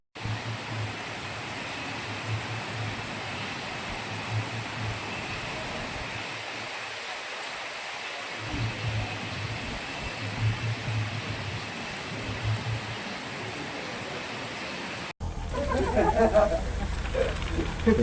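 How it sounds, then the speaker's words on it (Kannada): Heavy monsoon rain pours down during a ride to Chikmagalur, a steady dense hiss that briefly thins partway through before a louder, rougher burst at the end. "ಹೆವಿ ಮಳೆ ಬರ್ತಿದೆ."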